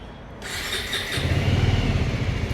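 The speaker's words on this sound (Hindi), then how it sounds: "अब कर लेते हैं बाइक को स्टार्ट।" A Bajaj Avenger 220 Street motorcycle engine starting: a short starter whir, then the engine catching into a steady low idle with a pulsing rumble, close by.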